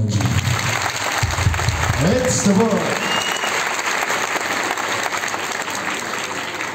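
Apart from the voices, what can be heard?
audience applause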